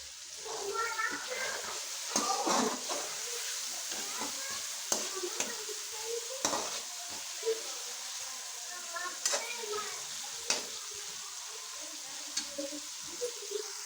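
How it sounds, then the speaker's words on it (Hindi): Frozen keema minced meat sizzles steadily in a pot while a spoon stirs and scrapes it, producing intermittent clanks over a constant frying hiss. "कीमा क्योंकि फ्रीज हुआ हुआ है इसलिए हम इसको डाल रहे हैं"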